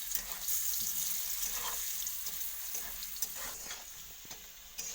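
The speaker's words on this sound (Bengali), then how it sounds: "কিছুটা নুন আর হলুদ দিয়ে দেবো দিয়ে লাল লাল করে ভেজে দেবো" Cut potatoes with salt and turmeric frying in hot oil in a pan, a steady close sizzle with occasional stirring scrapes and clinks throughout, no voices.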